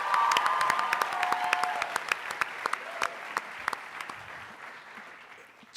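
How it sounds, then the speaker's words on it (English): A crowd at a student-athlete talent show applauds after a performance, with broad clapping, cheers and whoops that thin out into scattered individual claps. "let's give it another round of applause."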